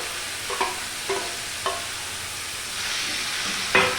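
Snake gourd stir-fried in a pan, with a few distinct scraping stirs at a steady pace over a continuous background sizzle that swells slightly toward the end.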